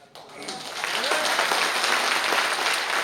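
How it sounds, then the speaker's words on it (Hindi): A seminar audience breaks into applause that swells from a few claps to a full, steady round and carries on evenly to the end. "तालियां बजती रहना चाहिए।"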